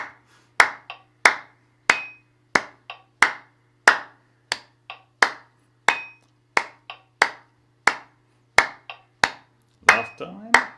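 Crisp hand claps keep a steady triplet pattern against a metronome, with lighter ticks between them, and a voice speaks briefly over the final claps.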